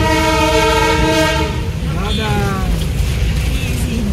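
A train at Darjeeling sounds a long, loud horn close by over the rumble of cars on the rails, the blast bending and fading after a couple of seconds while people talk nearby.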